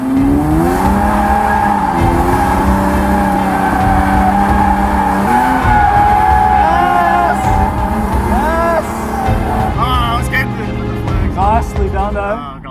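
Loud, sustained tire squeal from a car drifting through a racing game, a wavering high-pitched screech over a revving engine that bends in pitch as the slide shifts, with a person talking over it throughout.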